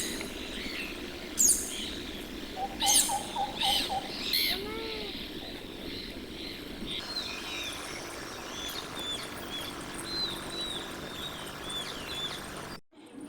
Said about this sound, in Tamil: குருவி சத்தம் எல்லாமே வந்து கேட்குறதுக்கு வந்து அவ்வளோ ப்ளசண்ட்டாக இருந்தது காலையிலேயே.